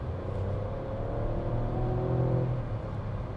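An MG Astor accelerating past 60 km/h, its engine a low steady drone with a faint rising whir heard from inside the cabin, quiet and without speech.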